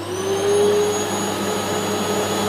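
Philips FC8575 vacuum cleaner running steadily on its lowest speed setting, a continuous, even whine with a constant motor hum, close and alone without talk.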